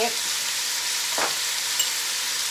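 Vegetables sizzle in a hot pot for a navy bean stew, a continuous close frying hiss with a brief stirring scrape partway through.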